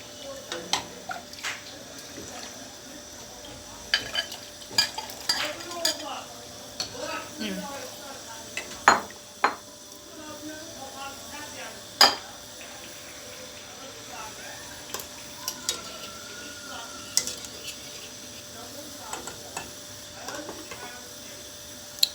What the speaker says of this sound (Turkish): çorbamı kaynayana kadar karıştıracağım